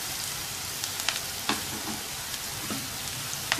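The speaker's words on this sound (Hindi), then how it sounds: "अब ऐसे ही प्याज को हिलाते हुए इतनी देर तक पकाएंगे कि ये ज़रा नरम पड़ जाए" Onions frying in a pan for egg bhurji, a steady close hiss and sizzle with a few soft scrapes as they are stirred, moderately quiet and without speech.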